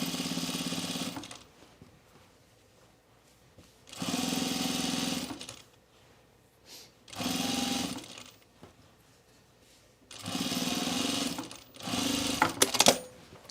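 An overlocker serges the side seams, waist seam and hems of a Sydney dress, running in four loud bursts of steady high-speed stitching, each lasting about a second or two, separated by quiet pauses, with a few short ticks near the end.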